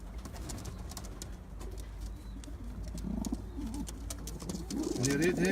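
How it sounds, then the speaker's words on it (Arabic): Pigeons coo softly in a group, with low throaty calls rising toward the end over a steady background hum and scattered clicks and rustles. "هاي الطيور."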